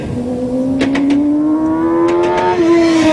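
A motorcycle rider opens the throttle hard and late while exiting a turn, the engine note rising steadily into a loud, close, sustained whine.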